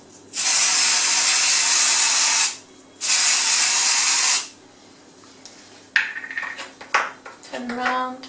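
Two long hissing bursts from an aerosol can of gold shimmer spray onto Oreos, each about two seconds, followed by clicks and light handling noises.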